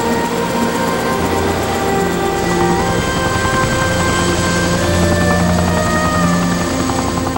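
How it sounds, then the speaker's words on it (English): Helicopter engine and rotor drone at a remote adventure race site in Fiji, loud and continuous with steady tonal hum and no voices. "And we put Nora in the helicopter"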